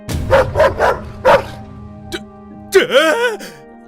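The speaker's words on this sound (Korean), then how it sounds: "쓸데없이 큰 소리로 짖어대는 들깨였다" A dog, notorious for charging and barking at passersby on the street, lets out several loud, sharp barks close by, then after a pause gives a rising and falling yelping whine, with voices around it.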